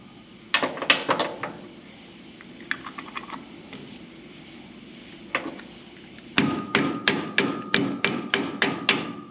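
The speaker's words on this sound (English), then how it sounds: "My crescent hammer." Sharp metallic strikes of a crescent hammer in a car workshop, a few scattered blows at first, then a rapid, steady series of loud hits near the end.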